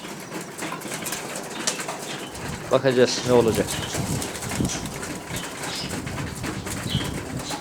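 Tumbler pigeons released from a loft flap their wings in a brief fluttering burst partway through, with soft cooing nearby, while someone talks steadily over a constant outdoor background.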